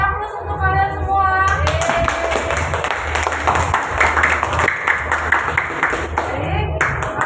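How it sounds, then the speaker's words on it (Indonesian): Students in a classroom break into steady group applause, a dense patter of many hands clapping for several seconds, mixed with a teacher's voice speaking over it. "Beri aplaus untuk kalian semua"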